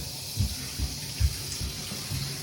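Water runs steadily from a tap into a pot being filled for dyeing with sappanwood, a continuous close hiss with a few soft splashing thumps and no talk.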